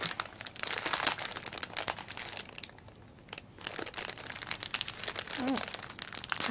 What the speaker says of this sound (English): I just felt like having Cocoa Pops. So I'm opening it.